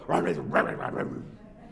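A man imitates a young puppy talking back, making a quick string of short, barking, yowling vocal sounds in a rising and falling rhythm, close and fairly loud, then trailing off.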